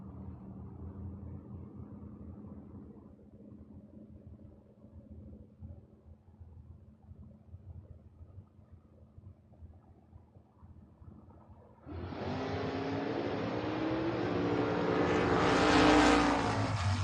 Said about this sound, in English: Jason Kirby, 610 the dial for the Nova, taking on David Saunders here, Tower Side, the Mustang 633.